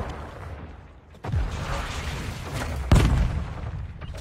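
A grenade goes off during a Hardpoint match in an online shooter game: a sudden deep blast, then a rumbling wash of battle noise and a second heavy boom, fairly loud with no speech.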